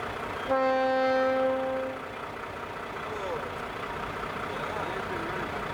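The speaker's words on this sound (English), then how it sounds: "I am there to shoot the trains." A train passes by a railway line, its horn blaring a loud chord at first and then giving way to a steady rumble of rolling cars nearby.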